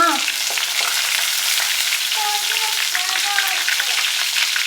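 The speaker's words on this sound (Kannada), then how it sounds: "ಬದನೆಕಾಯಿ ಪಾಡಿಗೆ ಫ್ರೈ ಆಗ್ತಾ ಇರುತ್ತೆ." Brinjal (eggplant) frying in hot oil gives a loud, continuous bright sizzle and crackle, close up, with light stirring scrapes and a brief faint voice under it.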